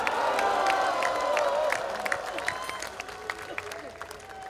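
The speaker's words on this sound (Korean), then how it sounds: "전교조 선생님들 기운내라고 격려와 위로의 박수 보내주십시다." A crowd at an outdoor Korean democracy rally in a public square applauds and cheers. The sound is a broad, steady wash of clapping and voices that eases slightly in the second half, with scattered shouts.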